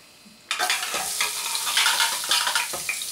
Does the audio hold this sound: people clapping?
no